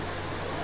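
A waterfall beside a hill temple near Katra gives off a dense, loud, constant roar that fills a brief moment with no voices.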